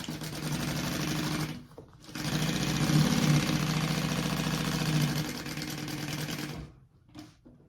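A sewing machine runs a basting stitch along a purse, a Claire bag, in close, steady mechanical bursts: one run, a short pause, a longer stretch, then a brief final spurt. No one talks.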